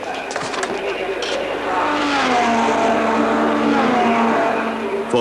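Two-liter Italian Ferrari race car at Le Mans, a loud steady engine drone with shifting pitch as it drives past, close and sustained, a brief thump near the start.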